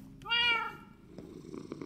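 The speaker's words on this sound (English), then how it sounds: "My kitty slept with me." A pet cat purrs close by in a quiet room, a soft rumbling purr after a brief bright vocal sound at the start, with faint background noise and no talking.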